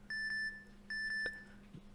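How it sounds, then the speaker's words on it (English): Keypad beeps sound twice, each a short double pulse of clean electronic tone, with faint background noise between them. "That double beep there"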